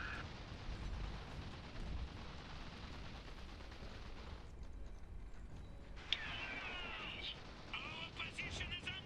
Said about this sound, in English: Our position is under fire.